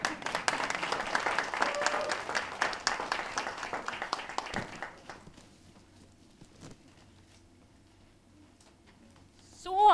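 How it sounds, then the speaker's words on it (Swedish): Audience applause at an amateur theatre performance, dense clapping that fades out halfway through into near silence, followed by a brief voice at the end. "Du har redan fått en applåd men du kanske får en till."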